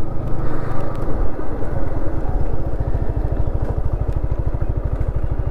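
A Yamaha MT 15 motorcycle engine runs close and loud in a steady, rapid rhythmic thump, like idling or riding at low speed, with no talking.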